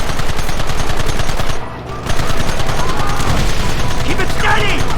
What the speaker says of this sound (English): They're hiding behind the rock! Gun them down!